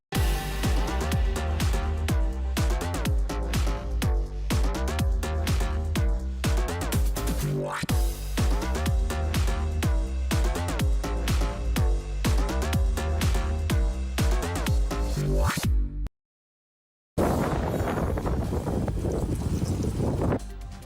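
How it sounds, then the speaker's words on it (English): Strong gusty wind up to 35 mph roars and buffets the microphone continuously, with a brief cut to silence near the end before the blustering resumes. "that is the sound of gusty winds hitting up to 35 miles an hour."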